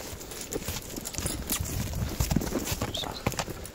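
A horse's hooves clip-clop in a steady, close rhythm over ground, with a faint whinny and a little background noise.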